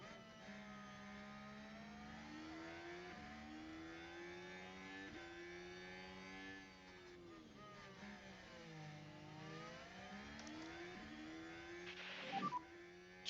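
Formula 1 cars in F1 Manager 23 race with a continuous, fairly faint engine whine that climbs and dips as gears shift, with a brief crackle near the end and no talking.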